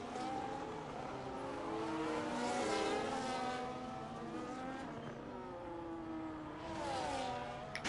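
Race cars in a racing video game at Monza stream past near the pit lane, a steady engine drone with rising and falling pitch sweeps as cars pass, continuous and fairly loud without speech.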